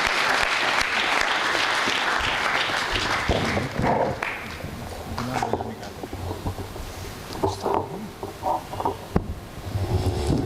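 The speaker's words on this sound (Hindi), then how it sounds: "उनकी अगवानी में एक बार जोरदार तालियां बजा दीजिए" Audience at a Hindi comic poetry gathering applauding to welcome a poet, loud sustained clapping that thins toward the end with scattered claps and a few voices underneath.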